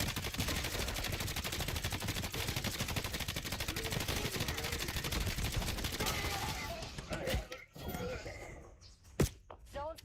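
A point turret in Call of Duty Black Ops 7 fires a dense, rapid stream of machine-gun shots for about seven seconds, then breaks into scattered thuds and isolated sharp bangs.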